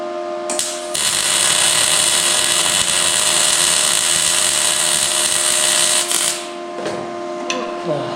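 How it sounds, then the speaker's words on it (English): An arc welder crackles and hisses in a steady, loud buzz for about five seconds, starting and stopping abruptly, with brief workshop noise on either side. "He said he wanted to weld it, so we're going to let him weld it."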